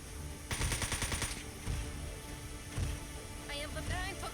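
Rapid automatic gunfire in the mech combat game Front Mission 4, a quick rattling burst followed by scattered shots under a steady game score and faint voices.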